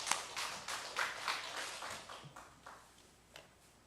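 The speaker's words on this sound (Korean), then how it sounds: "자, 하나님께 영광의 박수 올리겠습니다." A church congregation claps in unison during a Sunday afternoon worship service, a series of sharp rhythmic claps that gradually thin out and fade, fairly distant in a reverberant hall.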